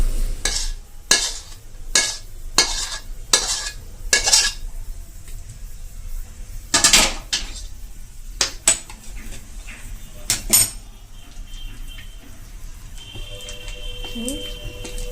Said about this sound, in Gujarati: હવે બધું મિશ્રણ પ્લેટ ઉપર નાખી દેશું.